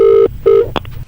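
A telephone ringback tone plays after a call is placed: two loud, even buzzing bursts, followed by brief clicks on the line.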